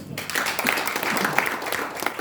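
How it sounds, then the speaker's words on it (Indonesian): A church congregation breaks into applause during a sermon, a thick, steady wash of many clapping hands that stays loud and even throughout. "Tepuk tangan"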